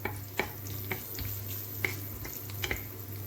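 Garlic frying in a pan, a steady low hum under scattered soft crackles and light sizzling pops, close and fairly quiet.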